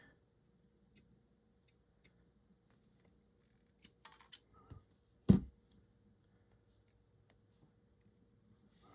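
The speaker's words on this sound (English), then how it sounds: "Let's cut this off because now you've seen the price tag." Scissors snip off a price tag from a thrifted piece of jewellery, giving a short cluster of clicks and one sharp cut near the middle of an otherwise quiet stretch.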